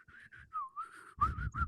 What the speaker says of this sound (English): that was a bad whistle. My whistler went.